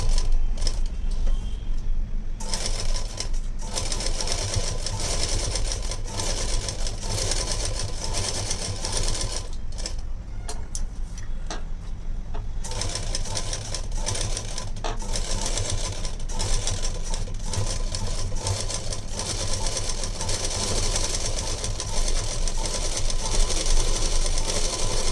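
A sewing machine stitches a lined blouse back, running as a steady, continuous close mechanical whir with brief pauses and no talking.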